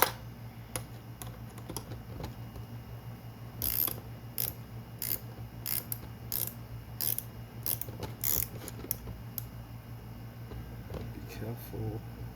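A ratchet tightens the valve body bolts on a U760E automatic transmission, producing bursts of quick close clicking over a low steady hum, with brief speech nearby.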